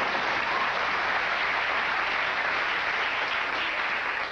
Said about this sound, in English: Sure, go ahead and applaud if you like.